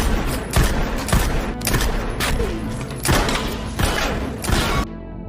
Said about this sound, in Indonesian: Brian juga berlatih cara menembak.